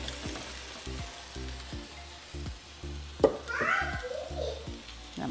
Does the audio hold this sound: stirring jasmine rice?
yes